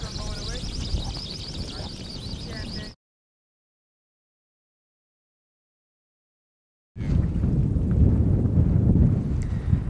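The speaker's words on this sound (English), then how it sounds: "it's pretty windy today" Steady wind roars and buffets against a microphone on the flats at Andros South, cutting out to silence for a few seconds before the rushing returns.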